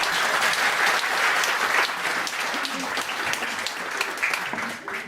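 Sustained audience applause fills a comedy talk show hall, a dense steady wash of clapping that stays loud for about five seconds before easing slightly at the end.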